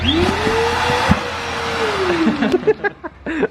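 A Henry vacuum cleaner motor whines up to a steady, loud drone close by, its pitch slowly rising and then falling, with clunks and bumps near the end.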